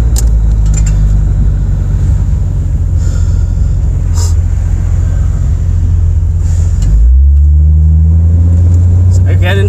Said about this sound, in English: It's in drive now. It's going into the gears, so I'm okay there.